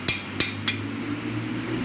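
A hammer taps a stuck part loose during a Gen 2 LT1 V8 bottom-end rebuild: three sharp, light metallic taps spaced about a third of a second apart over a steady low shop hum.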